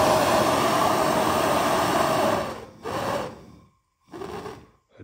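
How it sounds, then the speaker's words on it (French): A gas soldering torch lit and burning as a small flame, a loud close steady roar that breaks off, then returns in two shorter bursts separated by silence. "Et tu vois, tu peux faire une mini flamme."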